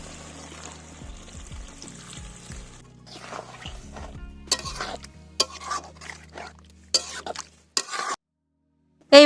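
Stirring chili chicken gravy with tomato sauce in a wok, with scraping and sloshing strokes in bursts and clinks of the utensil against the pan, close and moderately loud, ending in a brief pause.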